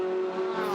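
Race cars at speed through the corners of a circuit, a steady high engine note held without a break, close and loud.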